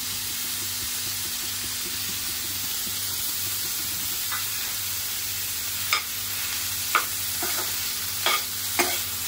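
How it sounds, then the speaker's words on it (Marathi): Mawa roasts in ghee for modak while being stirred, a continuous crackling sizzle with a few light spoon taps against the pan near the end. "मावा घालायचा आहे तुपावरती भाजायला चांगला"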